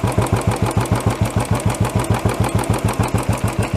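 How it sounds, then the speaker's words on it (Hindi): A Royal Enfield BS6 motorcycle with a slow-RPM idle problem idles nearby, a loud, steady, evenly spaced thumping beat throughout. "ये जो आप देख रहे हैं अभी इंजन का अगर आप साउंड सुनेंगे तो हल्का सा इसको ऑब्स्टिकल्स मिल रहा है"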